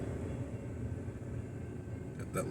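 Freight trains pulled by Gulf & Ohio and Lancaster and Chester locomotives, hauling liquefied petroleum gas cars, roll past as a faint, steady low rumble that stays even throughout, with a brief higher rattle near the end.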